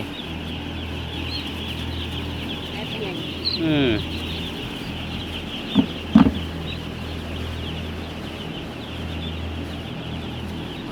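Chickens on a Thai poultry farm give a few scattered clucks and short calls over a steady low hum, with one brief murmured voice nearby.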